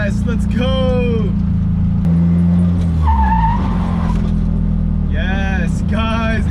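A Nissan S14 with a newly working handbrake skids, tires squealing in repeated rising and falling bursts over a loud, droning engine, with a short burst of revving in the middle.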